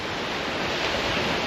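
Steady, loud wind roaring across the microphone at a lagoon on the West Coast near Langebaan, South Africa, a broad unbroken rush with no voices.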